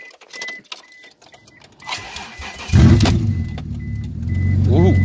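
An Isuzu engine cold-starts after the vehicle was rolled, with keys jangling before the starter cranks and the engine catches into a rough, rising idle, loud and close.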